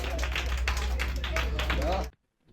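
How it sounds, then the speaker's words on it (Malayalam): Audience on a Cochin cruise boat claps along, a brisk scattered patter of hands over a steady low engine hum, ending abruptly into near silence with a faint sound after. "ഒരു കൈയടി"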